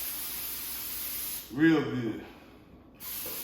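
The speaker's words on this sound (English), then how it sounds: "I'm gonna spray down my 9x13 aluminum pan" No-stick baking spray hisses onto a 9x13 aluminum pan in two steady, close bursts, with a person briefly speaking between them.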